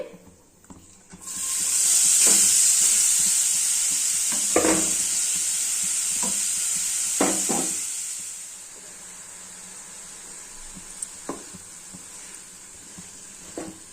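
Beetroot and garlic tipped into a hot tempering, setting off a sudden loud hissing sizzle that slowly settles, punctuated by several spoon scrapes and knocks against the pan while stirring; no talking.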